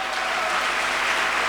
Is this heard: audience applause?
yes